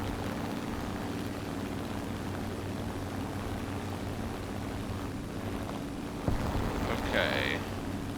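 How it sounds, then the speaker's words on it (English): Incoming warplanes, including a dive bomber, in War Thunder, a continuous low propeller-engine drone under battle ambience, with a brief thump and a short higher whine near the end. "Look at that, we've got more planes incoming."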